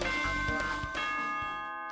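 Announcement chime from the video game Danganronpa 2: Goodbye Despair, a bright electronic ding-dong bell sequence of several sustained tonal notes struck in a quick rhythm, clear and alone before fading out.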